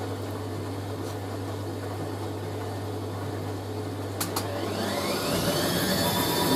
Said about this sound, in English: I love washing bedding, especially in a vintage washing machine.